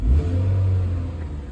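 A repossessed auction car's engine rumbles low and steady right after turning over, a deep idling drone with slight mechanical whir, heard up close.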